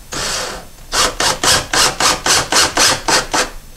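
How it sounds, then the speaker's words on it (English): A screw is driven by hand into a recessed medicine cabinet, making about nine close, loud, evenly spaced rasping strokes after a short initial scrape, with no talk. "Put your screw in here, and then you can tighten it in."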